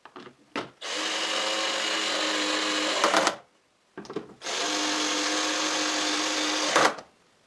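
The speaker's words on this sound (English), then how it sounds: "I anchor the insert plate with some wood screws." Two long bursts of a power drill whirring steadily as it drives wood screws to anchor a router table insert plate, each about two and a half seconds, close up, with a short gap between them.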